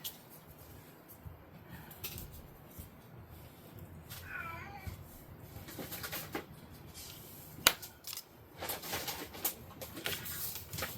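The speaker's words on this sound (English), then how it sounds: "I got a cat over there hollering." A cat hollers outdoors with a few wavering meows, fairly faint and distant, amid other scattered noises and no speech.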